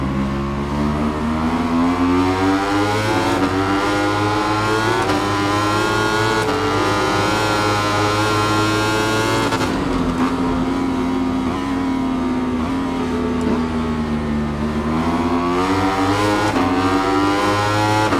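Yamaha R1-style 1000cc superbike engine in the racing game Ride 5, screaming at high revs with rising and falling pitch through gear changes, loud and continuous with no talk.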